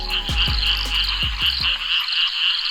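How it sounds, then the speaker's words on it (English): Frogs croak loudly near a hotel in Spain, several close, throaty croaks in quick bursts over a high insect-like trill that continues alone after they stop. "the frogs next to the hotel were croaking so loudly"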